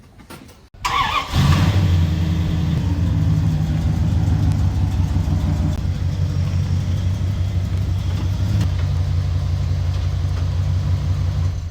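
A dusty Daihatsu Hijet Japanese pickup truck, left unused for years, catches with a sudden burst after a short quiet start, then settles into a loud, steady mid-pitched engine drone that runs close by without any talk.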